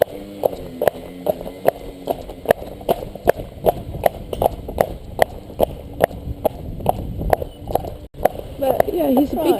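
A large cob horse trots at a sitting trot, its hooves clip-clopping in a steady even rhythm, close and clear, with a continuous low rumble in the background.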